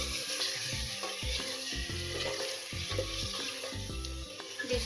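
Mutton liver frying with onions in a pan, a steady dense sizzle running throughout with bursts of louder crackling, no voices.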